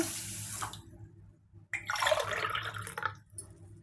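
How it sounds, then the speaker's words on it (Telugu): Half a glass of water splashes onto sugar in a pan for gulab jamun syrup, two short close pours separated by a brief pause, with no talk. "మళ్ళీ హాఫ్ గ్లాస్ వాటర్ వేసుకున్నాను"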